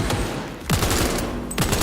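Machine gun fire in Cyberpunk 2077, heavy automatic bursts with sharp onsets repeating in quick succession, loud and close, filling the whole short stretch.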